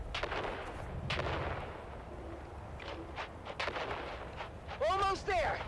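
Grenade explosions in the Dune video game: several muffled blasts and bursts of gunfire at moderate level, with a voice shouting briefly over the action near the end.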